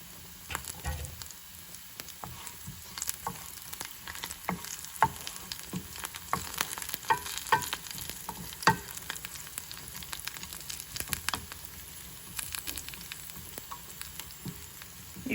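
Food frying and being stirred in a pan while cooking masoor daal with baby spinach and curry leaves: a steady close sizzle broken by frequent scraping and clattering stir strokes, with no talking.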